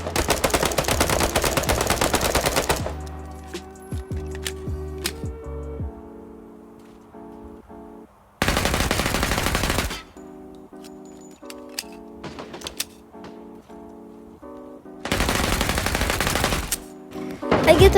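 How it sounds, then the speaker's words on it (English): Automatic fire from an AR and an SMG in the indie shooter Nine to Five, heard as three loud, dense bursts of rapid shots. Quieter clicks and mechanical ticks fill the stretches between bursts. "when you shoot an AR or an SMG, it feels like the crosshair is just moving up with no recoil whatsoever"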